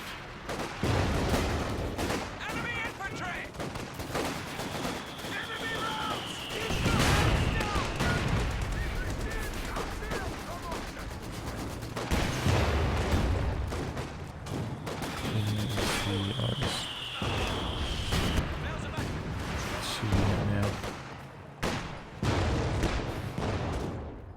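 Gunfire, fusillades and artillery from the World War II strategy game Company of Heroes 2 in a 2v2 match, a continuous busy battle mix with repeated shots and explosions throughout, no voices standing out.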